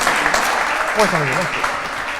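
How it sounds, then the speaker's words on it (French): Audience applause at a French FRAC session, steady crowd clapping throughout while a voice speaks over it in the middle. "Et c'est Frédéric Pau, sous vos applaudissements, qui va mener cette Punch Minute."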